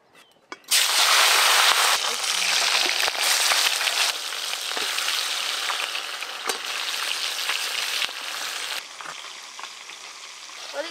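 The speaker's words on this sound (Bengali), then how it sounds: "তো মাছ ভাজা হয়েই এলো" Fish drops into hot oil in a home kitchen with a sudden loud sizzle that settles into a steady, bright crackling fry, close by, with a few spoon taps and faint talk mixed in.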